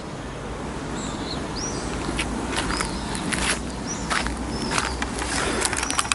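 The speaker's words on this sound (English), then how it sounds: "I've so missed listening to birdsong" Birds chirp and whistle in short bursts over a steady outdoor hiss in a forest, fairly close, with several brief calls scattered throughout.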